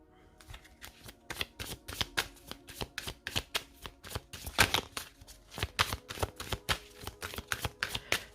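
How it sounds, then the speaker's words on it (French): A tarot deck is shuffled steadily by hand in a close, quiet room, giving a continuous run of crisp, rhythmic card snaps and riffles with no speech over them. "Allez, on va voir une carte du développement personnel."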